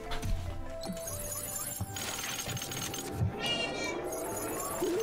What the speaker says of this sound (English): Featuring a guest star appearance by Marshy's cat